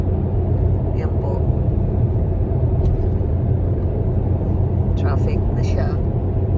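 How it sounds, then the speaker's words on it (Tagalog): Busy road traffic with trucks passing at Friday peak hour near Ripley: a loud, steady roar and rumble of engines fills the whole stretch, with a voice faintly present underneath. "marami ng mga truck. It's a busy road, especially now that's Friday."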